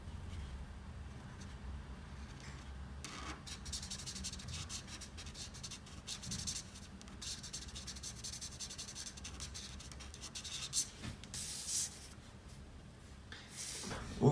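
Touch Cool alcohol markers colour in a drawing on paper, making faint, soft, continuous scratchy rubbing strokes up close in a quiet room, with a few brief louder scrapes near the end.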